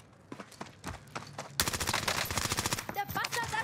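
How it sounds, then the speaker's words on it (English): Enemy gunfire in the video game Warzone: scattered shots first, then a sudden sustained burst of rapid automatic fire, loud and dense, continuing to the end. "The bastards are shooting at me."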